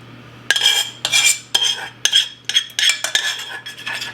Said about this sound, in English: need to stir this constantly because on the heat, if you don't, it will stick to the bottom